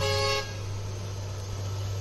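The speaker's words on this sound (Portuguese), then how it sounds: "olha que buzina estilosa" A vehicle horn sounds in a short, musical toot at the start, then fades into the low steady rumble of an idling engine.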